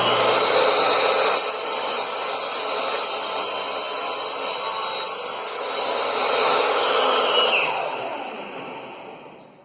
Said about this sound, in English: cutting 4x6 with a miter saw is not ideal